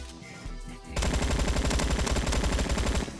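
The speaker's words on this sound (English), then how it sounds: "Got some shots off, and he's dead." Sustained automatic AK47 fire in the Roblox shooter Bad Business, a dense rapid string of loud close shots starting after a brief quieter lead-in and running steadily to the end.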